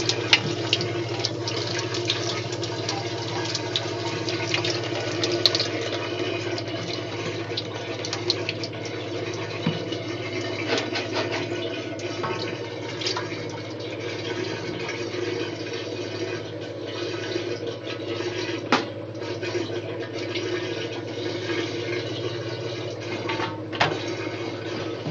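A Maytag A50 washing machine drains slowly, giving a continuous low rushing, gurgling water sound with a steady motor-like hum that holds at an even level throughout.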